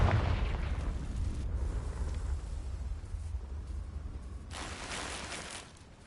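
In the Hogwarts Legacy video game, a fiery Confringo spell blast produces a loud, sustained booming roar with a deep rumble that runs for several seconds before tailing off. No voices are heard.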